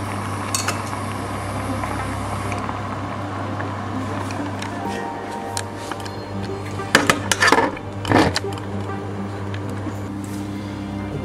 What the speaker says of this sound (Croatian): cijedit ćemo ga od vode i spasirati